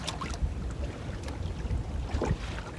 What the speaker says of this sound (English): Wind blowing makes it hard.